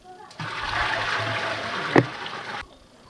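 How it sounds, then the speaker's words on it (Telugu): Water gushes into a 200-litre drum for making sour buttermilk, a steady rushing pour of about two seconds with a sharp splash near the end before it cuts off. "ముందుగా ఒక డ్రమ్ము తీసుకోవాలి అందులో 100 లీటర్ల నీళ్లు పోసుకోవాలి"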